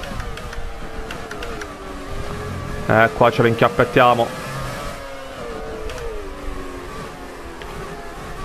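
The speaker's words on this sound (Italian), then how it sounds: "Sentite come cantano questi motori" Ferrari F2007 Formula 1 car with a naturally aspirated V8 in the F1 2020 racing game, engine whine rising and falling through several sharp revving bursts in the middle, with talk running over it throughout.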